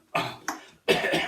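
Three sharp coughs from one person close by, the first two short and quick, the third longer and rougher after a brief pause.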